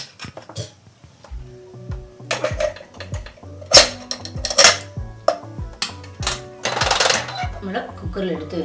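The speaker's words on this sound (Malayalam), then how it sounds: "ഇതിൻ്റെ ബബിൾസ് കളയാൻ വേണ്ടി ഒന്ന് തട്ടി ഒന്ന് വെക്കുക." A cake tin filled with jackfruit batter is tapped and knocked on a kitchen surface several times, giving uneven clanks and clatters close by amid other faint kitchen noises.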